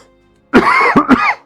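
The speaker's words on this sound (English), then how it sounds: "so there the coughing begins again" Coughing from a man pausing mid-commentary, a harsh throat-clearing burst followed by two more quick coughs, close and fairly loud, with no talk over them.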